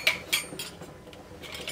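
A spoon clinks and scrapes against a metal pot while rice kheer with cashews, grated coconut and crushed cardamom is stirred, with a few sharp taps followed by softer, intermittent scraping.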